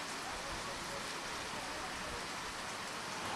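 Steady rain falls on a baseball field during a live high school game broadcast, a dense, even hiss filling the whole clip with no breaks.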